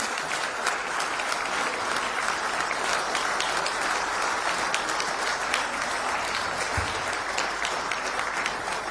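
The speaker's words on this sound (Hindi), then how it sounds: "बच्चों का जोरदार ताली के साथ स्वागत कीजिए।" Loud, sustained applause from an audience at a Bureau of Indian Standards foundation day quality conclave, welcoming JNV Ahmedabad schoolchildren onto the stage. Dense, even clapping fills the hall throughout, with no speech over it.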